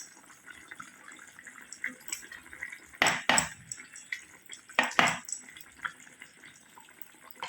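A spoon scrapes and clinks against a metal pot of simmering chicken adobo with yogurt in a few bursts, with soft simmering and kitchen clatter between strokes.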